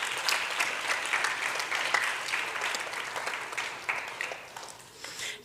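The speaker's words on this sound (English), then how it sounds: "Give him a round of applause" Audience applause at a school graduation ceremony at Nevis Academy, a steady wash of many hands clapping in a hall, sustained and fairly even for several seconds.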